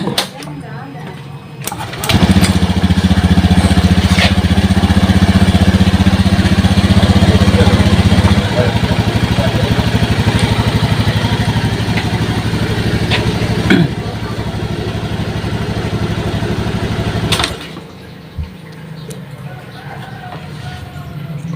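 A Honda Scoopy scooter with an injection fault starts and settles into a loud, steady idle close by for about fifteen seconds before shutting off, with a person talking over it.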